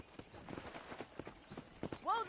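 Horse hooves clip-clop on the ground in Red Dead Redemption, a steady uneven patter of hoofbeats heard under game dialogue, with a short whinny-like sound at the end.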